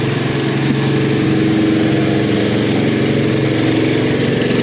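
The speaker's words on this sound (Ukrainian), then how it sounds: "Тут навіть дуже потужний генератор." A powerful generator runs continuously on a central city street in Lviv in summer, a loud, steady droning engine rumble heard close by with no change in pace.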